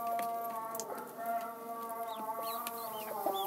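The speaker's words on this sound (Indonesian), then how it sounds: "Jadi yang mengeram itu ayam" A brooding hen clucks in repeated low, throaty bursts, close by, with other chickens and a few faint chirps in the background.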